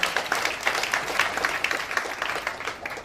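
Applause from a crowd at an Indian business motivation event: continuous, dense clapping from many hands, loud and close, filling the whole stretch without pause.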